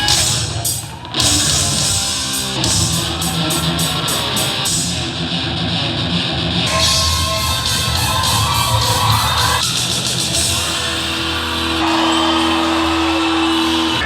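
A massive crowd at a Stranger Things fan convention cheers, whoops and yells loudly and continuously, with shrill shouts and a few sharp bursts rising over the roar.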